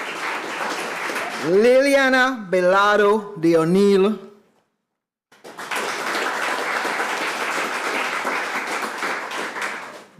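An audience applauds a delegate at a constitutional convention, a broad, even burst of clapping after a man reads out a name over the room's sound system, then a brief pause before the clapping swells again.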